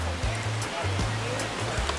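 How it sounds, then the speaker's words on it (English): A river in Jamaica rushes steadily near a hiking trail by an old bridge, a broad continuous roar of flowing water close by, with a low droning hum running underneath. "we're close to the river now. Yeah, I can hear it."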